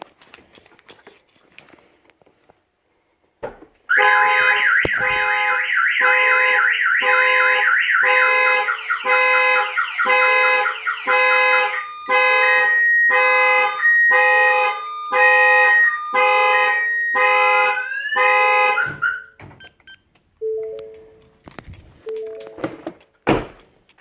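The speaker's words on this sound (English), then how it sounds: "it'll still trigger the alarm." A Ford F150 pickup's alarm going off, a loud cycling electronic siren pulsing in rapid regular bursts for about fifteen seconds before stopping, with a door thunk and a few short chirps after.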